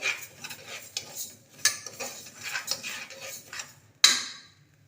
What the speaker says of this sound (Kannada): ಹೆಸರು ಬೇಳೆ ನೋಡಿ ಈ ರೀತಿ ಫಸ್ಟ್ ನೀಟಾಗಿ ಹುರ್ಕೊಳ್ಳಿ